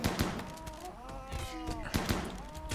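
A revolver shot in a sci-fi shooter game rings out among other gunfire, short sharp cracks and bursts scattered through the clip, with tonal sweeping game effects between them.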